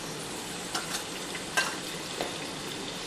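Chopped whole yellow onion frying in oil and butter over medium-high heat, giving a steady broadband sizzle with a few brief stirring clatters, close and moderately loud, no talking.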